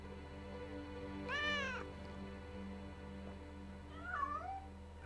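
A cat gives two meows, a clear rising and falling one near the middle and a shorter, softer one near the end, over a steady low hum inside a PS2 game, Shadow of Destiny.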